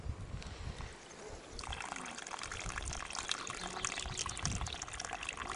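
Salty spring water running from a well, a steady close trickle and splash with a rougher, fuller pour in the later part, no voices over it.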